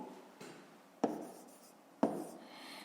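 A pen or marker writing out a math solution for a fifth-grade exercise, with quiet scratchy strokes and three sharp taps or stroke starts spaced about a second apart, close and soft, with no talking.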